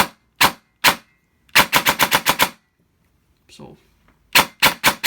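An airsoft gun fitted with a Gate Aster trigger unit fires close by in single shots, then a rapid burst of about eight rounds, a pause broken by a brief spoken word, and another quick burst.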